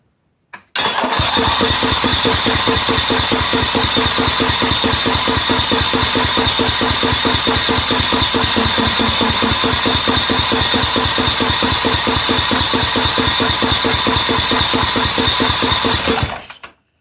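An old 12 HP Tecumseh small engine, running with its blower housing off, catches almost at once and then runs with a loud, rapid, even chugging for about fifteen seconds before shutting off abruptly, close by and with no talking.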